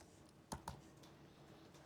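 Two sharp keystroke clicks on a computer keyboard sound close together near the middle, over a quiet room hum, with faint further taps after.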